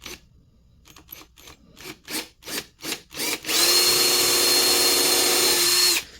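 A power drill bores a new screw hole through a carbon fiber knife brace, starting with a string of short, rhythmic bursts, then one long, loud, steady whine.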